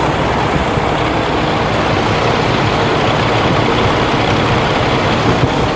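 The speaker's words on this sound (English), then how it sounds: "Check out the engine right there, guys." A 2019 Peterbilt 579 truck with an MX-13 diesel engine idles steadily, a loud, close, even rumble with no change in pace.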